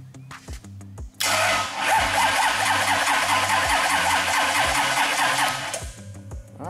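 An engine with spark plugs installed is cranked over on compression without starting, a loud, steady churning starter whir with rhythmic compression pulses lasting several seconds before stopping.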